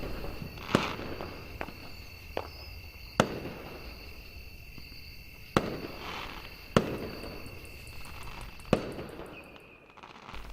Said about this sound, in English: More rockets followed, a thunderous noise echoing throughout the land.